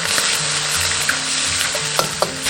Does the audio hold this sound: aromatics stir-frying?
yes